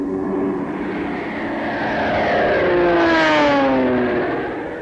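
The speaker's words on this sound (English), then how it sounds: "the carrier planes continued to press the attack" Carrier-based warplanes attacking Formosa in archival wartime footage, a sustained loud engine roar that swells with a rising, sweeping pitch as aircraft pass close overhead, then eases slightly at the end.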